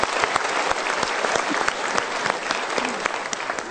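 An audience at a motivational talk show breaks into dense, steady applause, with many hands clapping close together and no voices over it.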